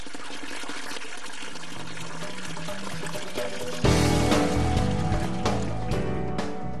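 Water running from an old village spring, a constant bright splashing pour that grows louder and fuller midway, with no talking.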